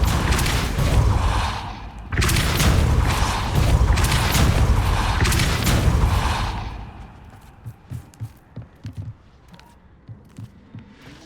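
Descendo and Depulso spell impacts in Hogwarts Legacy: a long, loud, rumbling boom with grinding mechanism noise that fades out after about six seconds into a run of faint clicks and small knocks.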